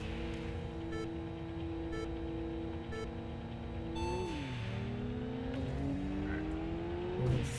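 Mitsubishi Evo cars racing in Import Tuner Challenge, with a steady engine drone that rises and falls in pitch through gear changes and revving, close and continuous with no talk.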